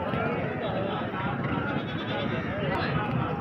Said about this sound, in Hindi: ये एक बच्चे वाली बकरी है